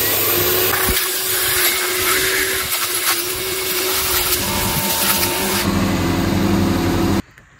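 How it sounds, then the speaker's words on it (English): Shop vacuum running loud and steady while walnut media is blasted through the intake ports of a Mazda CX-5 Skyactiv diesel, a continuous close roar with a faint hiss and a sudden cutoff near the end. "now I can turn on the vac and start blasting it"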